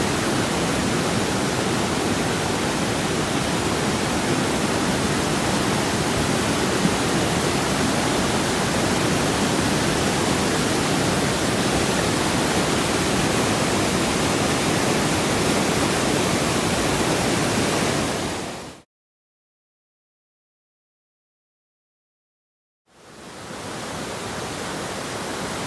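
A powerful waterfall at Mt Sterling roars as a dense, steady rush of water, loud and close, broken by a few seconds of silence before resuming.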